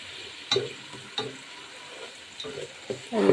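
Onion paste and spice paste sauté in a pan for hilsa pilaf, a soft steady sizzle punctuated by several scraping stirs of a spoon, close and alone with no talk.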